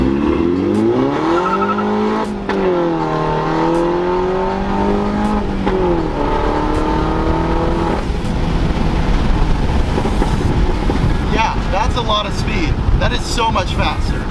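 A tuned Mini Cooper S engine on a Stage 2 Bytetronik tune, around 300 hp, pulls hard through the gears. Rising engine pitch sweeps up, breaks at gear changes and climbs again, loud and close with wind rush and brief talk.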